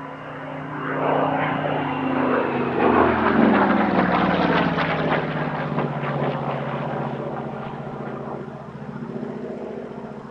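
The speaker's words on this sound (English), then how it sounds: "The Yak 3 UTI was a radial engine two-seat trainer version of the Yak 3U fighter." A Yak-3 UTI two-seat trainer's droning radial engine passes by at an airshow, rising loud then fading slightly, with a steady throbbing hum and shifting pitch as it flies overhead.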